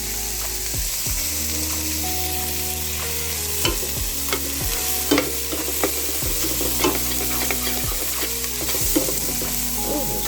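A pork chop frying in a pan gives a loud, constant close sizzle throughout, broken by occasional scrapes and clinks from stirring, with no talking.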